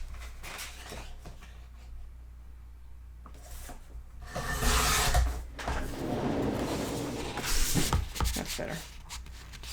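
Paper trimmed narrower for a mini album gives scraping, rubbing bursts of cutting and handling, louder midway through, with soft shuffling between strokes close by and no one speaking.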